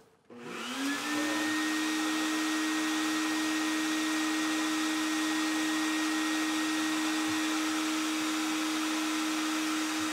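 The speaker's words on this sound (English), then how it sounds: "Then we'll just vacuum the bees off the" A vacuum motor spins up and runs steadily with a loud, constant whine and rushing airflow, sucking up honey bees during a swarm removal, continuing without a break.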